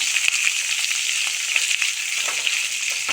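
Small onions frying in oil for a vegetable chutney give a steady, close, loud sizzle with fine crackling throughout and no talking.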